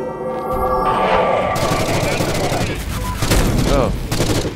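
Gunfire from a gun in the first-person shooter Forgive Me Father: a dense, continuous barrage of rapid shots with booming low end, loud and sustained throughout.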